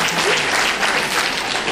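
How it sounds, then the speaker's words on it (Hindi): An audience gives dense, continuous applause, loud and close throughout without pause. "सारे मुझे बढ़िया तालियां मिल गई"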